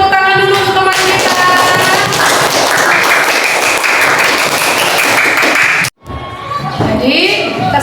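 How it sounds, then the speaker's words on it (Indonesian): Classroom applause for a student's presentation, a dense wash of many hands clapping steadily for several seconds, briefly cut off near the end, then resuming with talk over it. "kita beri tepuk tangan dulu untuk teman kita."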